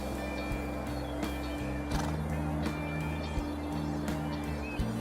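Horses in a field near a busy airport give off hoof clops and a whinny amid steady outdoor background noise, moderately close.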